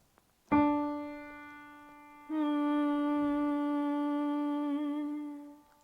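Two sustained steady reference pitch tones for singers, the first, for women, fading after about two seconds, then a second slightly different steady tone, for men, held for several seconds, clean and alone.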